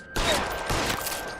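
Rapid volley of gunfire from a shootout in the video game LA Noire, dense and loud, the bursts blending into a sustained roar with game sound underneath.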